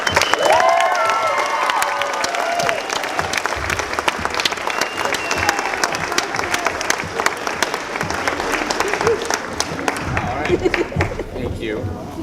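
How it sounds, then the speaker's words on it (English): Loud, continuous audience applause with scattered cheers and crowd noise at a school production of Mary Poppins Jr., steady throughout and thinning slightly near the end. "Mark Burnfield deserves a hell of an applause"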